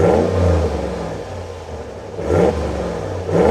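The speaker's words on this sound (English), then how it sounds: "the dual exhaust to allow for the best exhaust note coming from that Hemi V8" A 2023 RAM 1500 Limited pickup with a Hemi V8 and dual exhaust revs twice, a deep rumbling idle swelling into two throttle blips that rise and settle back, loud and close with no talk.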